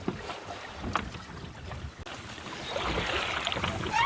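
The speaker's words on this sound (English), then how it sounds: "We're sailing along very slowly at the moment." A sailboat moving slowly under sail, with water washing against the hull and gusty wind buffeting the microphone, growing a little louder and brighter in the second half, no voices.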